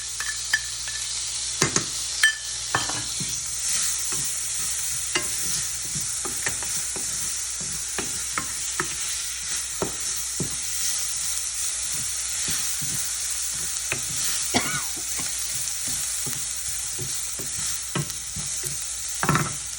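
Onion and tomato fry in a pan for a sprouted moong dish, a steady bright sizzle broken by frequent clicks and scrapes of a spoon stirring against the pan.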